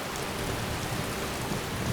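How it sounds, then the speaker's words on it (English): Steady rain falls in the video game Skyrim near the city of Markarth, a dense, even hiss of drops with no talking. "Still raining."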